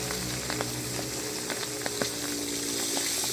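Pieces of food frying in hot oil like chicharon, a dense, continuous sizzling hiss with scattered sharp pops, steady and close throughout.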